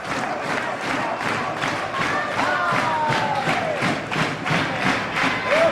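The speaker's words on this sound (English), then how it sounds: "Crowd encouraging these two men to keep fighting," Crowd at an IWA Mid-South pro wrestling event cheers and yells steadily throughout, a dense roar of voices with shouts and a few thuds from the ring, loud and continuous.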